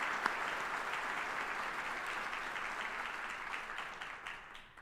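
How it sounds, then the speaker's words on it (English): An audience claps at a U.S. Army retirement ceremony, with sustained, full applause that gradually thins and fades toward the end. "Let's give them a round of applause."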